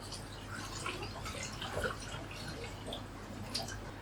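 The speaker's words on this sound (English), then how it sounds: "We wash the rice to get rid of the excess starch." Rice being washed in water, with soft sloshing, small drips and light trickles over a low steady hum, quiet and close.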